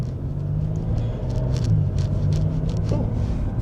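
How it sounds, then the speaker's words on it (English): Porsche 911 GTS (991.2 or 992.2) in sport mode pulling away from rest, a steady low engine rumble and drone heard from inside the cabin, continuous and fairly loud throughout. "Fires it up, move it into sport mode, put the razor shifter into drive,"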